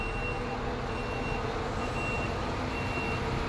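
A diesel truck backs in with its reversing alarm beeping steadily in a regular pulse over a constant engine rumble and broadband noise, moderately loud throughout.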